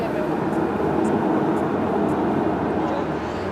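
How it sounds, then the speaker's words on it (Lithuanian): Budapest yellow metro line train in motion, heard from inside the carriage as a loud, steady rumbling roar with faint periodic clicks, continuous throughout. "Dabar geltoname vagone važiuosiu šią geltoną metro liniją"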